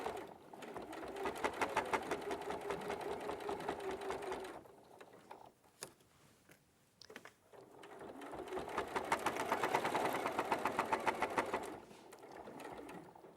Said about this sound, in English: I want to just sew these on carefully.